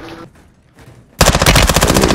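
Loud, close automatic gunfire from Call of Duty: Modern Warfare II bursts in suddenly after quiet game ambience, firing as a dense, rapid stream until the end.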